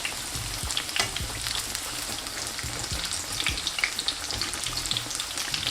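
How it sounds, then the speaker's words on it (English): Chicken katsu fries in hot oil while being basted, producing a loud, steady sizzle peppered with sharp pops and crackles throughout. "Now it's best to baste the chicken with some hot oil so we get an even color all across the chicken."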